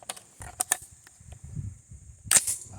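Rifle shots from an 18-inch Bear Creek Arsenal .223 Wylde rifle firing PPU 62-grain M855 green tip ammunition: a few sharp cracks spaced apart, then a louder, fuller blast near the end over a low rumble.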